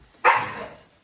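A single sharp bark from Luna, a pet dog, loud and close indoors, trailing off quickly into quiet.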